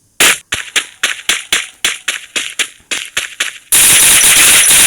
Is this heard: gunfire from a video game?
yes